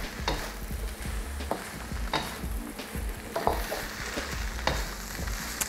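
Mixed vegetables sizzling in a stir-fry pan for a Malaysian dish, a steady frying hiss broken by the clatter of stirring over about six seconds, close and fairly loud with no talking.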